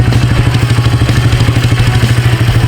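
Carbureted Polaris 325 Magnum ATV engine idling close by, a steady low chugging putter with a regular pulsing beat and light mechanical clatter, alone without talk.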